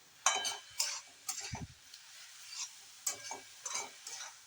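Methi bhaji with crushed peanuts and salt being stirred and mixed in a pan: a series of short, close scraping and clinking strokes in an uneven rhythm, with a brief low knock partway through.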